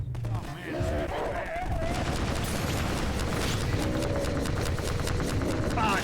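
Rapid gunfire rattles continuously during a strider fight in Half-Life 2: Episode Two, loud bursts layered over game music and engine hum, with voices talking in places.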